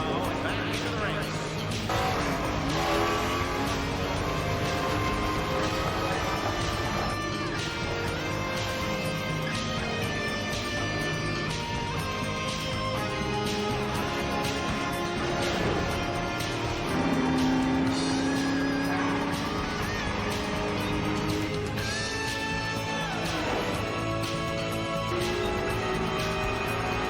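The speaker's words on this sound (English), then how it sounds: "Car 51, Matt Thomas coming out of the pit row and back into the race." Race cars circling a track during a race with pit-lane action, a continuous roar of engines and passing cars running throughout beneath a commentator's talk.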